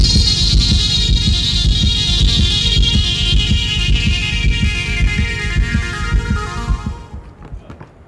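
Steady, fast thumping heartbeat pulses, loud and close, with a bright ringing tone above them that fades out near the end.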